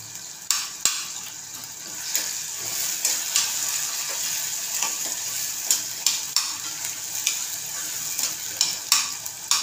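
Homemade ground masala paste sautéing in hot oil for a peas and potato bhaji, a steady close sizzle broken by repeated sharp scrapes and clacks of a spoon stirring against the pan.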